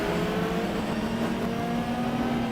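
A Ferrari race car in a racing video game holds a steady, high-revving engine drone with a sustained tonal whine, moderately loud and continuous, with no voices over it.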